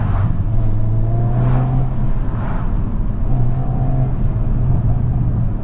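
A Hyundai Kona N's four-cylinder exhaust burbles under a steady, loud in-cabin road rumble, with low engine drone and a few soft popping pulses while driving.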